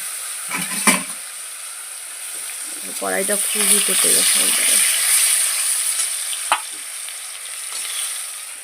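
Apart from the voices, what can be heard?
potatoes frying in hot oil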